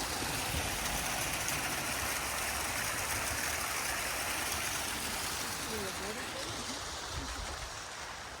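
Water pours steadily over an old stone weir in a country town, a dense, constant rushing roar that holds even and close for the whole stretch, with faint background sounds barely poking through.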